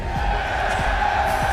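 Arena crowd at a CS:GO esports grand final, a steady wall of cheering and roaring noise filling the hall, continuous and loud throughout.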